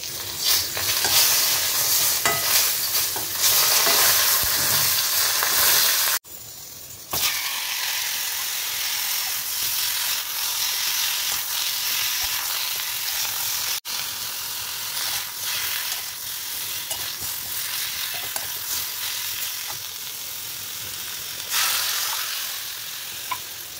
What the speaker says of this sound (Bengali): মাছের ঝোলটা হচ্ছে